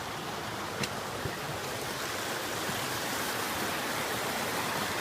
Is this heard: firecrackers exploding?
no